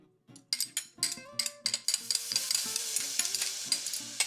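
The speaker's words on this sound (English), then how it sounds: "Okay, now let's cook the garlic." Garlic frying in sesame oil in a pan for Korean japchae sizzles steadily, with a rapid series of close, clattering stirring knocks and scrapes throughout.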